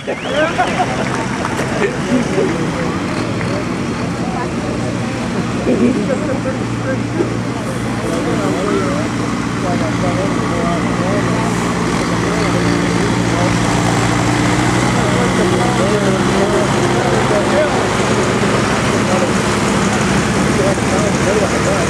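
A John Deere 4440 tractor strains through a tractor pull on tough ground, its engine droning loud and steady while an announcer talks over it.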